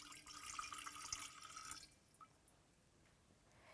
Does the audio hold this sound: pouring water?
yes